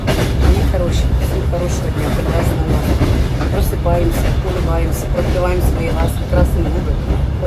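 A passenger train travels on rails with a constant low rumble and rattling carriage noise throughout, loud and close as if heard from inside, with faint clicking and squeaks over the steady drone.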